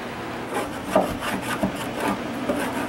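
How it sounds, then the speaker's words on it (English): Old paint softened by paint thinner being scraped off a jon boat hull: close, repeated rasping scrape strokes in an uneven rhythm, each a gritty rubbing burst, with no talking. "Old paint thinner's set on it long enough, so we're scraping away at her."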